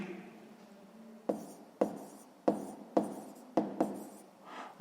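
A pen writes numbers on paper while a sixth-grade maths exercise is worked out, with six short, sharp strokes that recur at roughly half-second intervals over a faint background hum, close and fairly quiet.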